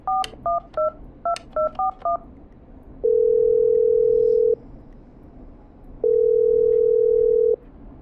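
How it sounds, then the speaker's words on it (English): Telephone keypad tones beep in a quick series of dialed digits, followed by two long, steady ringback tones separated by a pause, during a phone call in the video game Killer Frequency. "Okay, I'm dialing."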